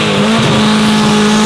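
An 1100hp Subaru drag car roars loudly at launch with anti-lag, a continuous harsh engine blare and a rising whine throughout, very close.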